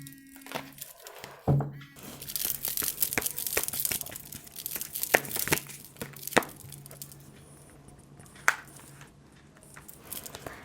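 Tarot cards being shuffled by hand, a close, continuous papery riffling and crinkling with sharper snaps scattered throughout, and a faint voice briefly underneath.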